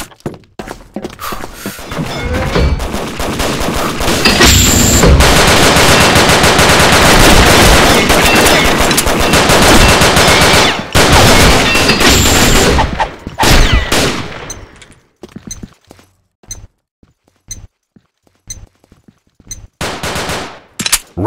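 G18 Cobra pistol gunfire in the video game Combat Arms: loud, rapid automatic bursts forming a dense barrage, then sparser single shots and short volleys with gaps between.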